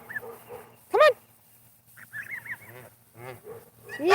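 A loud pet bird gives sharp, honking calls at a farm with goslings, several bursts over about four seconds with quieter calls between and a strong one at the end.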